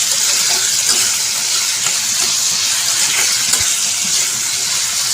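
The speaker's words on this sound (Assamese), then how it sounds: "বহাই দিলোঁ কেৰাহীত, এনেকৈ ভাজি আছোঁ" A kadai of ginger, garlic and meat fries over the heat, giving a loud, continuous sizzling hiss that holds steady throughout with no talking.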